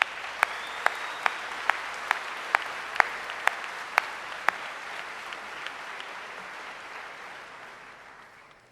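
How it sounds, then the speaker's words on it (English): Commencement audience applauds graduating high school students; a broad wash of distant clapping fades out gradually, punctuated by a string of sharp, evenly spaced nearby claps. "Folks, give them a round of applause."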